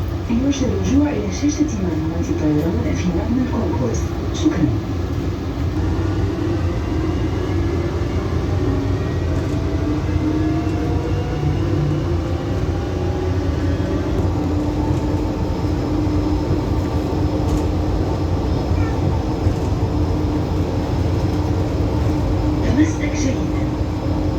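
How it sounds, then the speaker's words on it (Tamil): A metro train in Dubai airport carries passengers between terminal and gates, with a steady rumbling, humming ride and squealing wheel tones throughout, while someone talks over it. "இது மெட்ரோவில் போயிட்டுருக்கேன் பாருங்கள்"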